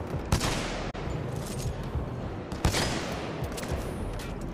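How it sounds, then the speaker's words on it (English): Rapid bursts of automatic gunfire in the video game Titanfall 2, loud and dense with two sharper blasts standing out among continuous shots, no talking. "Oh, looks like I'm using a lot of ammo."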